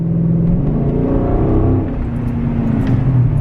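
A Hemi Chrysler 300 with straight pipes and all mufflers removed rumbles loudly and close, its deep exhaust revving and settling in a continuous throaty drone.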